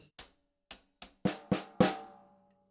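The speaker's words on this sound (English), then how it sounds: "We've got the first 8th note triplet on the downbeat on the hi-hat, and then we've got 2 8th note triplets on the snare drum." On a drum kit, a hi-hat stroke opens an eighth-note triplet pattern, followed by strokes on the snare drum, six sharp close hits in all, the last ones louder and ringing longer, with no voices.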